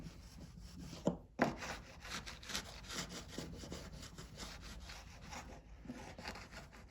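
A burnishing tool is rubbed back and forth along model railroad track rails, making a soft, close, continuous scraping and rubbing with faint rhythmic strokes and a couple of louder knocks.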